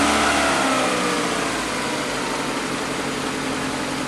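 A car engine running loudly and steadily close by, a broadband roar that stays even across the whole stretch, with no voices.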